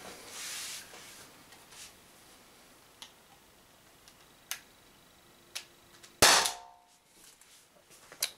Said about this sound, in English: I'll just take a couple more shots and then I will stop.